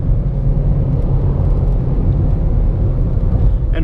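A 2017 VW Polo Mk5 pulls hard at high revs, its engine giving a steady, loud low drone with constant road rumble and no pauses.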